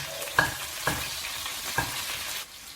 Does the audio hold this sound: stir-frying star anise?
yes